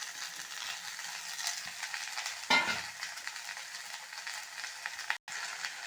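Radish greens crackle and hiss as they are stir-fried in a pan, a steady close sizzle with one louder scrape and tossing sound midway and a brief dropout near the end.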